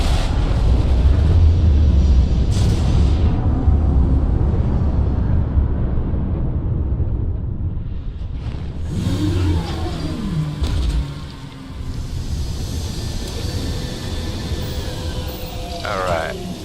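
Spaceship touching down in a video game: a loud, continuous low rumbling roar with a few whooshing sweeps and rising tones partway through, easing slightly toward the end.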